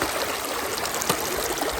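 A forest stream flowing at a trail water crossing along the Sheltowee Trace in Daniel Boone National Forest, a steady close rush and trickle of shallow water over rocks with no voices.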